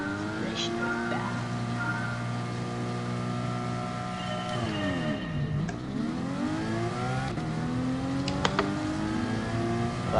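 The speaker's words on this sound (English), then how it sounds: "That Porsche don't get off the line too well" A Porsche and a Ferrari pull away from a standing start in a racing game, engine tones sweeping up and down through gear changes in a steady, moderately loud drone, with faint talk underneath.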